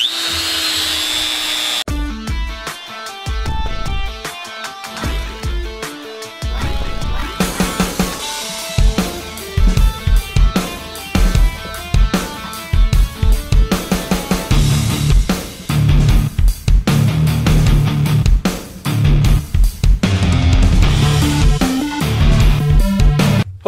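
A router cuts out a wooden guitar body along a glued-on paper pattern, a loud, close, sustained high whine that surges and dips in steady bursts as it bites and clears the wood, with no talking.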